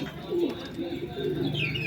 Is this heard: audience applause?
no